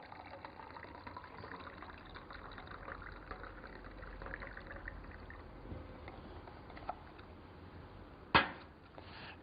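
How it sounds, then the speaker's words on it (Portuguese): Hot water poured from a thermos into a cup for a chemistry experiment, a faint, steady trickling wash running several seconds at low level, ending with a sharp clink near the end. "Colocamos então a água quente em um dos copos."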